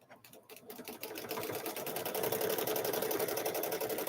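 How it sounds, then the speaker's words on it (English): A sewing machine runs steadily while free-motion quilting fabric panels for a Grinch-themed quilted handbag, its fast, even needle chatter rising in speed and loudness and then holding a constant whir. "So we are just free motion quilting these panels."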